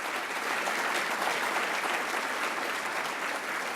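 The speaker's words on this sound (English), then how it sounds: "So can we give him a warm round of applause as he will be departing?" Warm, sustained applause from an audience at a community service awards ceremony at a mosque, an even, steady clatter of many hands without a break.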